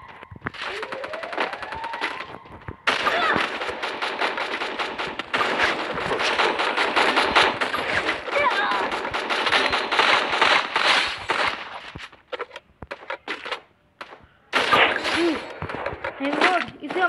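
M500 gunfire in the mobile battle-royale game Free Fire: dense, continuous bursts of shots and impacts mixed with game sounds and a talking voice, dropping briefly before another loud burst near the end.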